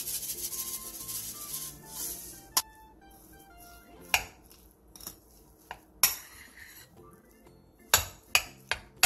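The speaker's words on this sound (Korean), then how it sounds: "볼에 밥 3공기, 소금 3분의 1스푼, 들기름 2바퀴, 통깨를 넣고 골고루 버무려주세요" A utensil scrapes and rubs through cooked rice being mixed with salt, perilla oil and sesame seeds in a bowl, broken by sharp clinks against the bowl's side, with no talk.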